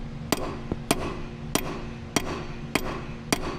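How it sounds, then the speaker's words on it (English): Metal hammer blows on a 3.6 Pentastar engine cylinder head in a Ram Promaster, six sharp evenly spaced strikes about every half second, close and loud, with no talking. "Let's bust out the hammers, man."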